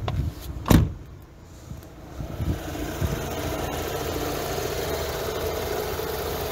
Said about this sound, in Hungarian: Még a motornak a járását picit megnézzük.